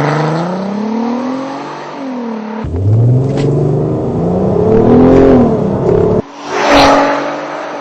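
Volkswagen Golf R32 Mk5, a 1.6-tonne 4Motion car with a DSG dual-clutch gearbox, pulls hard through the gears, its engine note climbing, dropping at each shift and climbing again, loud and close with no talking.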